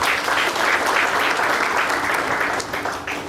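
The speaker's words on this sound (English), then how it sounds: "a big round of applause to him" A roomful of people gives a sustained round of applause for a speaker at a GST seminar, dense and steady for about three seconds before starting to thin out.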